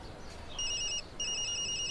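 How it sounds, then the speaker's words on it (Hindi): A telephone rings in two electronic trills, a short burst then a longer one after a brief gap, clear over a quiet, faintly hissing background. "सुबह ही मां का फोन आ गया।"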